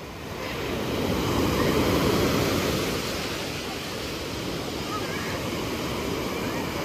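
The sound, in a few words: ocean waves breaking on a beach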